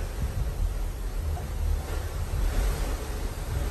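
Ocean waves rush steadily below a cruise ship balcony on the Carnival Freedom as it sails away, with a constant wash and wind noise and no voices.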